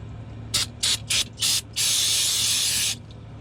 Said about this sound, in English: spray some brake cleaner on there